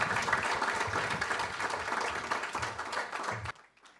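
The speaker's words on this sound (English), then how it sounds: "Another round of applause." An audience at a youth, green and digital event in Kigali claps in a dense, steady wash of applause that cuts off abruptly near the end.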